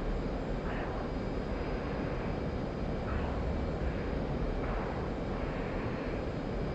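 F-18 and MiG-29 jet engines in a video game dogfight, a continuous loud low engine roar with a few faint rising whooshes over it, no voices.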